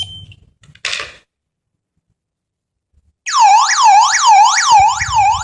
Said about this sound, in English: Motion sensor alarm.